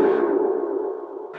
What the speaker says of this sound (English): Let me take out all these other effects and leave the echo so we can hear the